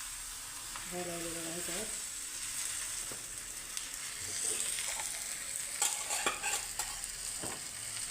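Dhapate flatbread frying in oil on a pan, a steady hiss and sizzle with some stirring and scraping, while someone speaks briefly over it.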